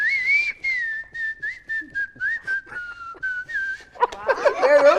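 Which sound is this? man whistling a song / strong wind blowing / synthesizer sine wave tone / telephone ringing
man whistling a song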